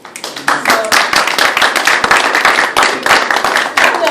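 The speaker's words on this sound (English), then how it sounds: "when people clap, I never know how to react to that" An audience claps at a public speaking event, a burst of crisp, dense handclaps rising quickly and continuing steadily and loud throughout.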